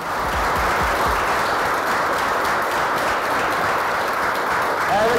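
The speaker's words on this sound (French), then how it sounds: "Eh les gars, n'applaudissez pas trop" A room full of around fifty participants at an MMA training camp in Marseille claps steadily in dense, sustained applause, close and loud from start to finish.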